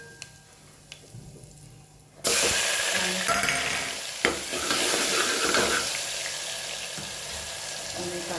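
Mustard seeds, cumin and asafoetida hit hot oil for a potato dish: a quiet start with faint clicks, then a sudden loud burst of sizzling and crackling that continues steadily to the end.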